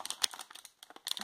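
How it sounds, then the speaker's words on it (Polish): Foil packet holding a LEGO minifigure crinkled and worked at by hand, a quick run of close, crisp rustles and crackles with a brief pause midway, faint and without talk. "Ja chyba wezmę inną paczkę, bo mi się ta nie chce otworzyć."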